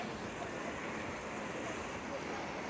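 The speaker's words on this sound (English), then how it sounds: "here is some footage of the flood flowing Brisbane River" The flooded Brisbane River surges past beneath the Goodwill Bridge during the 2022 Queensland floods, a constant broad rush of moving water mixed with wind buffeting the microphone.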